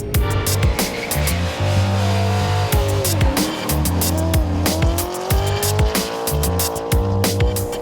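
Rockstar Scion race car on a test track, its engine roaring loud and continuous while tires squeal in long sustained bursts with gear-shift breaks.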